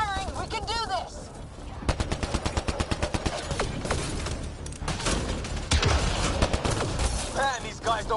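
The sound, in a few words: gunfire in Mass Effect Andromeda video game battle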